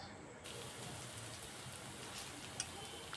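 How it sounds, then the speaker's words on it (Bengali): Onion, garlic and ginger frying in a pan make a steady, soft crackling hiss that runs on without a break, with one small click near the end. "সবগুলাকে একটু লাল লাল করে ভেজে নিচ্ছি।"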